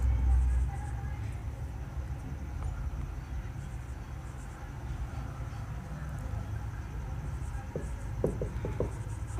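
Chalk or marker scratches across a board during a physics lecture on units and dimensions, with steady scratchy strokes under a low room hum and a few sharper taps near the end.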